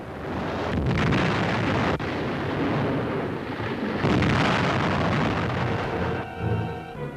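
Deep rumbling blasts roar and rumble continuously aboard the burning aircraft carrier USS Franklin, with a sharp crack partway through, like explosions thundering amid a large fire.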